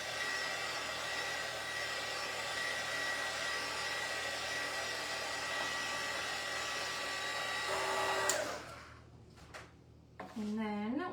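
A hair dryer blows hot air steadily over a fresh paint coat on a plastic Tide Pods container being upcycled into a pumpkin, running loud and constant before cutting off, with a voice speaking afterward.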